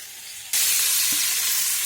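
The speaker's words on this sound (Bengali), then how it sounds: "আদা রসুন পেঁয়াজ ভালো করে ভেজে নেব।" Ginger, garlic and onion frying in hot oil in a wok, a loud steady sizzle that bursts in suddenly and holds strong, with a brief stir or clink partway through.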